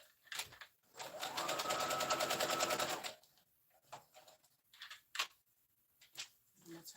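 A sewing machine stitches a fabric scrub cap in one close, steady two-second run of rapid mechanical clatter, followed by scattered handling clicks and quiet fabric rustles.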